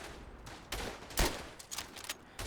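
Gunfire in the WWI shooter Verdun: several sharp rifle shots crack at irregular intervals, one louder report in the middle, with faint battlefield ambience between them and no talk.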